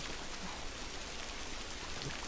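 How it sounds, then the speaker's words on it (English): Steady rain in The Last of Us, a dense, even hiss of falling water and drops on surfaces, constant and unbroken with no voices. "All this rain ain't helping."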